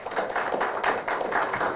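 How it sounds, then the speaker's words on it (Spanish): Warm audience applause at an international engineering congress welcoming an engineer to the stage; dense, steady clapping from a crowd, fairly close and continuous throughout. "Vamos a darle la bienvenida con un afectuoso aplauso al ingeniero."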